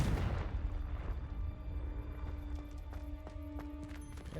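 A Confringo blasting spell explodes in the Hogwarts Legacy video game. A heavy blast opens the clip and decays into a low, rumbling roar, with faint tonal game effects ringing over the tail.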